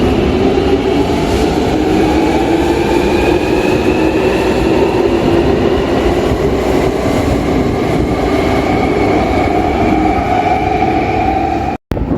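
A Jubilee Line underground train at Canada Water station rumbles loudly and steadily for the whole stretch, with a rising motor whine and rail noise, then cuts off abruptly near the end.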